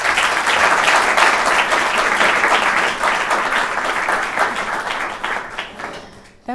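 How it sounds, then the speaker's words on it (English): Warm audience applause at a talk event in Berlin, sustained clapping from a sizeable crowd that holds steady for several seconds before thinning out and stopping. "That was a warm applause"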